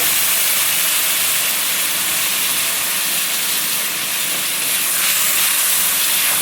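Cumin, tomato, green chili and coriander leaf paste sizzles steadily in hot oil for a Bengali mullet fish curry, a dense continuous frying hiss close up with no voices.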